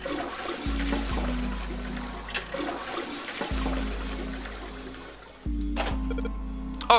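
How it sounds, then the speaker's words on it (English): Toilet flushes in the video game 999 Zero Escape, a loud rushing, gurgling water sound that recurs three times in close succession, each surge starting abruptly and washing over a steady background. "I had a loud flushing noise"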